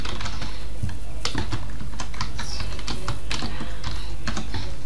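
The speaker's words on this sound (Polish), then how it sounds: "Przepraszam za głośną klawiaturkę." A loud, clicky computer keyboard typed on up close in rapid irregular bursts of keystrokes, with short pauses between runs and no voices.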